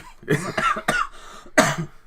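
A man coughs during a gaming session, a few rough bursts close to the microphone with short gaps between them and no talk.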